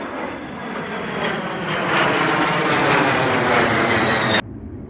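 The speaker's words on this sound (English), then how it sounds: "ooh, more planes" An airplane passes overhead near Boca Chica, its engine roar steady and loud, swelling toward the middle before cutting off abruptly near the end.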